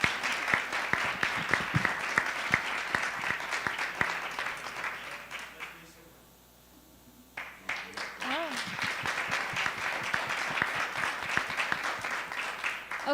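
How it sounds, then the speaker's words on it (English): Applause from attendees at a school board of education meeting, sharp individual claps at moderate distance, fading to near silence midway before resuming, with voices talking over parts of it. "Give him a round of applause."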